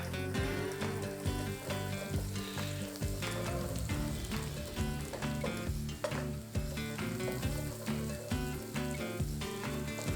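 Lamb chops sizzle in a hot pan on a barbecue cook's stove, giving a dense, steady, loud frying hiss with stirring sounds throughout and no talking.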